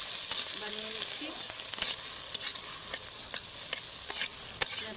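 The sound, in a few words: vegetable ghonto being stirred and fried in a pan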